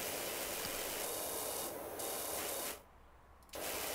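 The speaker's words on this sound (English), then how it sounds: "And hit it with our 15 degree orange spray." A pressure washer's 15-degree orange spray nozzle in the game PowerWash Simulator makes a loud, continuous hissing rush of water that cuts out for about a second and then resumes.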